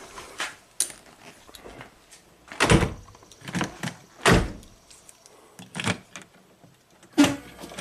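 Key turning and working the door lock of a rare vintage Audi Turbo, a series of sharp metallic clicks and clunks in irregular bursts, some louder thuds, close up with quiet gaps between.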